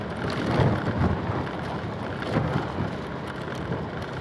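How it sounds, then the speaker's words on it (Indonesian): Outdoor wind buffeting on a village road near Jatingarang, Pemalang, a continuous low rumbling gusty roar with a few stronger swells, close and fairly loud, no talking. "Anginnya"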